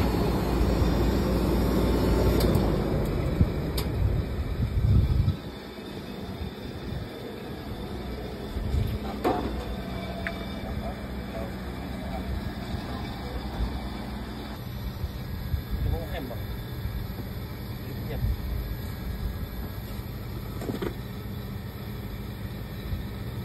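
Two Daikin VRF air conditioner outdoor units running after an IC board replacement, a steady low mechanical hum and fan rush with scattered clicks and clanks nearby, and someone talking over it at times.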